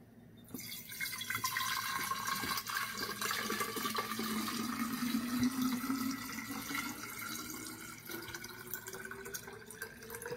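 Water trickles and splashes steadily into a container, a continuous liquid pouring sound with a slowly rising pitch as it fills.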